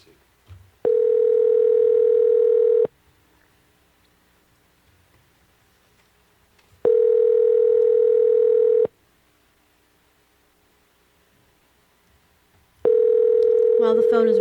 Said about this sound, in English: While the phone is ringing